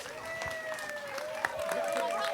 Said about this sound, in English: Let's have another nice round of applause, everybody